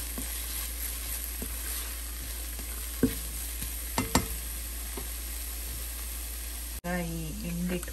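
Masala for bottle gourd paratha fries in a pan with a steady, close sizzle and occasional scraping stirs, and a voice speaks over it near the end.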